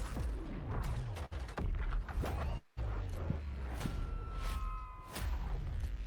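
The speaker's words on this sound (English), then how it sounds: "We sure cause a lot of explosions." Explosions and gunfire-like booms go off in a co-op video game trailer, with sharp bursts and creaking mechanical clatter over a moderately quiet, busy background.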